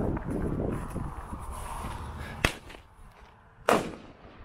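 Thunderking firecrackers explode outdoors, two sharp, loud bangs about a second apart following a crackling fizz, each echoing briefly before fading.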